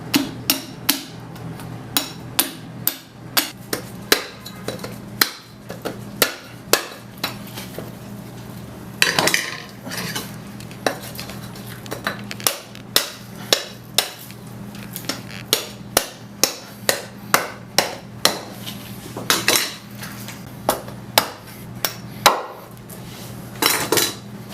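A goat carcass is butchered, with the rib rack cut away from the vertebrae: a long run of sharp, regular knocks and clacks of blade against bone and board, close and fairly loud, with occasional heavier thuds.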